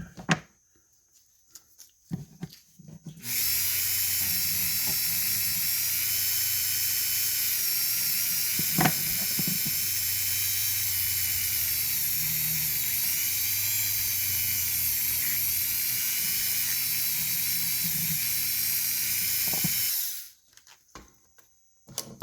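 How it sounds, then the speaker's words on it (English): A rotary tool fitted with a large burr grinds and carves a wooden Celtic trinity heart, a steady high whine running unbroken for about seventeen seconds with slight load changes, close and alone after a brief quiet start. "I need to get that big burr out here again and clean him up because the sanding wheel isn't getting him too good."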